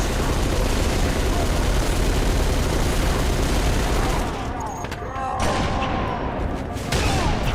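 Heavy video-game gunfire pours out in a dense, continuous barrage of shots and blasts, loud and close, thinning briefly before resuming.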